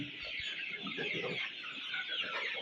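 Desi chickens on a small poultry farm clucking continuously at close range, a busy overlapping chatter of short calls with no talk over it.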